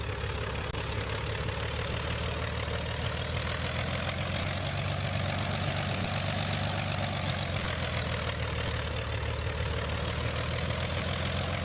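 Propeller aircraft engine of a P-38 in the Roblox game PTFS during an airshow, a steady droning hum that holds level and unbroken throughout with no talk.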